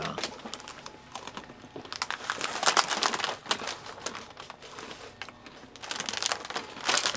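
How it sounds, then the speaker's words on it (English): An Oreo cookie package is resealed with close, loud crinkling of the plastic wrapper, coming in busy bursts with brief quieter gaps and no talking. "So we just reseal the package"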